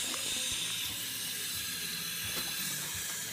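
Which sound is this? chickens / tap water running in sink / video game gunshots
tap water running in sink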